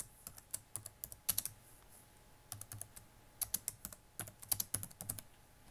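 Computer keyboard typing in quick bursts of close, crisp keystrokes with short pauses between runs, fairly quiet and with no talk over it.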